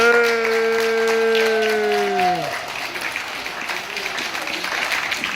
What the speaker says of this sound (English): can y'all please give a round of applause for coming to the show?